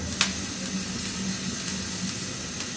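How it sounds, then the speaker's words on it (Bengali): Chopped garlic fries in oil in a pan, giving a soft, steady sizzle with a faint hiss close by. A brief sharp tick sounds early on, and there is no talking. "এই দেখেন ভাজা হচ্ছে"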